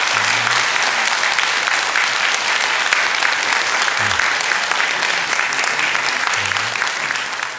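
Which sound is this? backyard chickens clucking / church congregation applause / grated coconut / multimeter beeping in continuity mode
church congregation applause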